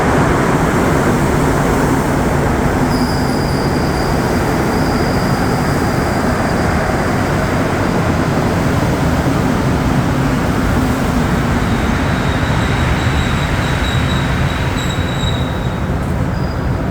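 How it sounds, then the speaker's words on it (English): A Montréal Métro MR73 subway train running between Jean-Drapeau and Berri-UQAM stations, heard from inside as a loud, steady roar of rubber-tired rolling and motor noise with faint high whines drifting in and out. "The MR73 train."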